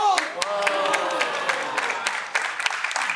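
Brief burst of audience applause at a magician's Halloween séance show, scattered claps rising then thinning over a few seconds, close and moderately loud, with a speaking voice running underneath.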